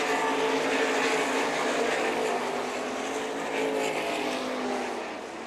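A sprint car races past on a dirt track at an IRA and MSA event, a loud, high-revving engine roar sustained across the clip that fades slightly at the end as the car moves away.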